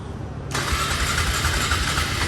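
A Polaris Scrambler 500 ATV with a troublesome choke cable cranks and catches about halfway through, then settles into a loud, steady, close-up engine roar.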